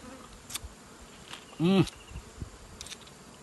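A honey bee at a flow hive bee farm in Muaro Jambi gives a short, loud, close buzz midway through. Faint clicks and rustles sit over an otherwise quiet background.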